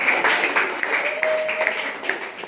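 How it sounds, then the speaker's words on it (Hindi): Classroom students at a school clap for a classmate in a short burst of mixed applause, moderately loud, with a teacher's voice and chatter mixed in. "क्लैप दे बच्चे के लिए, जोरदार ताली।"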